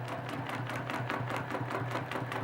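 A sewing machine stitches a quilt feather along its top edge with a steady, even motorized whir and fast needle rhythm that runs without pause. No talking.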